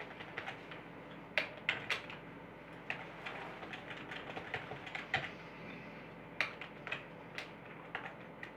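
Soft, close typing on a computer keyboard, irregular bursts of key clicks with occasional louder taps, quiet and alone with no talking.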